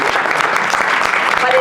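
An audience at a panel discussion claps in a dense, loud, continuous round of applause filling the whole moment.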